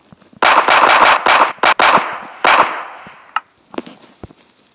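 Gunfire from a guns mod in Minecraft Pocket Edition rings out as a loud burst of rapid shots, then a few scattered single cracks trailing off into quiet.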